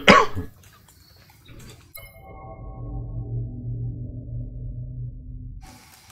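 A single loud cough bursts out at the start, followed by quiet low game ambience from Star Wars Jedi: Fallen Order on Kashyyyk, with a soft hum lingering afterward.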